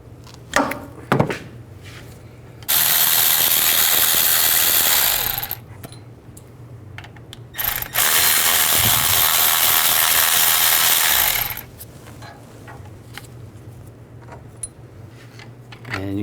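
Two long, loud bursts of an impact or ratchet tool break free the T55 front brake caliper bolts on a 2002-06 Chevy Avalanche, each lasting several seconds, with short tool clicks and garage noise between them.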